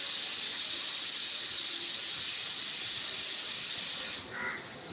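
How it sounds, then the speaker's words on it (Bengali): A pressure cooker on the kitchen stove whistles while dal cooks, giving off a loud, steady jet of hissing steam for about four seconds before it cuts off abruptly into a quieter room. "ডাল বসিয়েছি, সিটি পড়ছে।"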